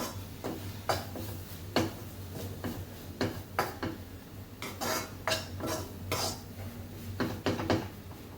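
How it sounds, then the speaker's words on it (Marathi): Coconut laddu mixture of grated coconut is stirred with milk in a bowl, giving repeated soft scraping and clinking strokes at an irregular rhythm over a low steady hum, close and fairly quiet, with no talking. "आता दूध टाकल्यानंतर परत एकदा मिक्स करून घ्यायचं"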